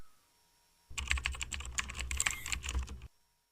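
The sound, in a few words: typing on a computer keyboard to search Google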